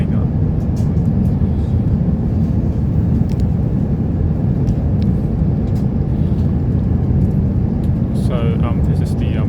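Steady broadband roar inside the economy cabin of a Cathay Pacific Airbus A350-900 cruising from Hong Kong toward Manchester, a constant low engine and airflow rumble with brief faint tones near the end.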